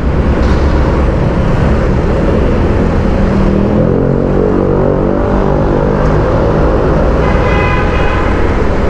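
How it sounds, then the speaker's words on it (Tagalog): Loud, close road traffic rumbles steadily, with engines droning and a car horn tooting near the end, alone without voices. "Traffic"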